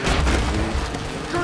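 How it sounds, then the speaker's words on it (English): A grenade explosion in the video game A Way Out rolls out as one loud, sustained boom with heavy low rumble and debris noise across the whole moment. "Grenades incoming."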